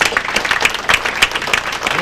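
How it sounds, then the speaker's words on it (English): Audience at an American Legion baseball banquet applauds, a brief burst of many hands clapping with a few louder individual claps standing out, fairly close. "So I think you deserve a round of applause too."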